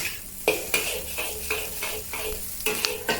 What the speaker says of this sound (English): Now turn up the heat and stir fry over high heat until smoke starts rising and the rice smells fragrant